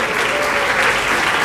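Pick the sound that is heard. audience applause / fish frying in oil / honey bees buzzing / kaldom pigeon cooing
audience applause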